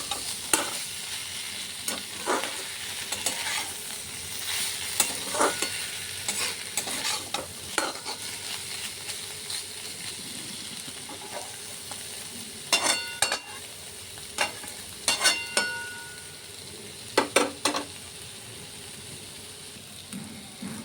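Dried fish curry with vegetables being stir-fried dry in a pan, a steady low sizzle broken by repeated sharp scraping strokes of a spatula, clustered in quick bursts toward the end, with no talking.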